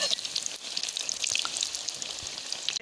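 Pakoras fry in oil over a slow flame, making a close, continuous crackle with scattered sharp pops and spits, and no talking.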